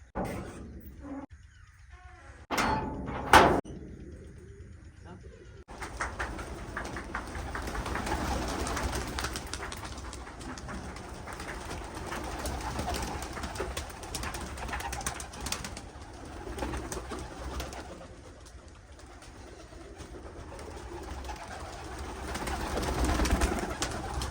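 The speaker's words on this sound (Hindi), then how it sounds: "कबूतर को निकालें" Pigeons coo softly close by at a farmhouse, with a few sharp knocks early on, then a long stretch of low rustling and murmuring.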